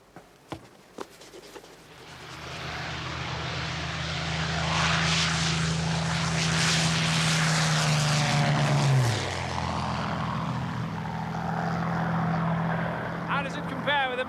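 Propeller aircraft engine droning close by, swelling to a loud sustained roar with a pitch drop as it passes, then continuing; voices briefly at the end.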